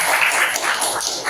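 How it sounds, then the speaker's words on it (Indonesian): A class of ninth-grade students clapping their hands together in a classroom, a steady dense patter of many hands, close and loud, with no voices over it. "Sekali lagi coba tepuk tangan kalian semuanya."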